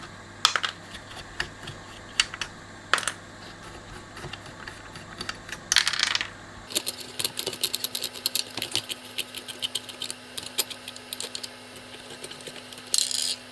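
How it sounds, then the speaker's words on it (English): Metal standoffs are unscrewed from a pre-amp, heard as clusters of small, close metallic clicks and ticks. Partway through, a steady low electrical hum starts underneath. "Just unscrew these standoffs. They come off quite nicely."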